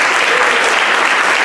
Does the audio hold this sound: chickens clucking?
no